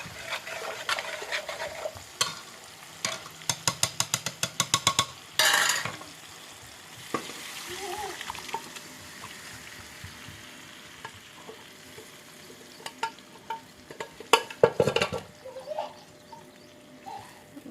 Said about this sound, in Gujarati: देखो गाइस, इन्हें मिक्स कर दो बराबर में